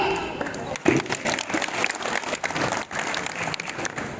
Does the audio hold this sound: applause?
yes